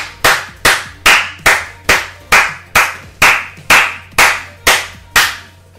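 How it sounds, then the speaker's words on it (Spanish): A single pair of hands claps about a dozen times in a slow, even rhythm, each clap sharp, close and loud, with no talk over it. "Venga, un aplauso a Boetius."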